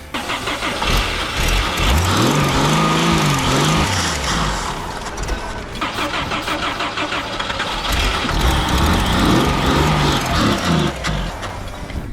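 A Jeep CJ7 engine, sprayed with starting fluid, cranks over and over, sputtering and churning without catching, loud and close with brief pauses between attempts.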